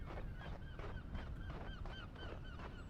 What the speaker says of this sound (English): I can really hear the seagulls now.